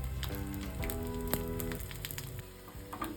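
Karimeen, pearl spot fish rubbed with masala, frying in hot oil with a soft, even sizzle and scattered light crackles, close and steady beneath a faint sustained musical tone.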